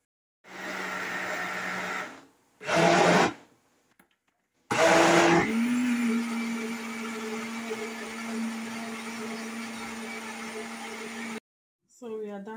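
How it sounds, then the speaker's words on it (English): A blender whirs a thick green smoothie of banana and apples, starting with two short pulses and then running loud and close in a long steady grind before cutting off. "So we are done blending our smoothie"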